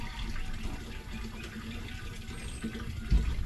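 Brown water runs from a tap in a steady, soft gush, continuous and moderately close, with a faint bump near the end.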